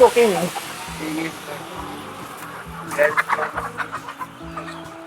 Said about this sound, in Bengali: এক সাইডে খাতাগুলো রেডি করে এখানে মুরগিগুলো রাখা শুরু করে দিচ্ছে